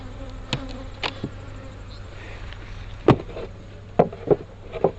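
Honeybees drone in a low, steady hum around an open working beehive as frames are handled, with sharp wooden knocks and clacks of hive parts punctuating the buzzing.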